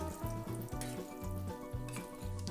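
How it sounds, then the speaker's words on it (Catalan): Chopped onion sizzles in hot bacon fat in a pan, a steady close crackle with a faint rhythmic background pattern, no talking. "La mitja ceba l'he picat també i ara la poso a enrossir."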